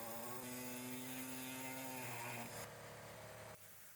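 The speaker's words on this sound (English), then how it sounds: "Now cut the carrier frame. Make 2 cuts, one on each side." Power saw cutting through the metal driveshaft carrier frame of a fifth-generation Subaru Outback, a steady close whine that shifts pitch as the blade bites, then drops away near the end.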